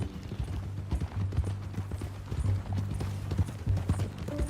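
Horse hooves clop in an uneven rhythm over a low, steady hum in the video game Red Dead Redemption 2, close and moderately loud.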